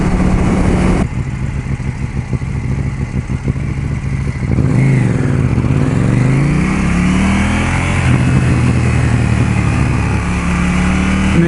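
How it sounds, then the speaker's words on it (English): A KTM 790 Duke motorcycle engine revs loud and close on a test ride, climbing and falling through several pulls, with crackling pops from the exhaust between throttle changes. "And the exhaust has got a nice little poppy."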